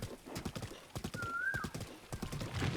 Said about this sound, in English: I'm sure horses love galloping through wet sand in real life.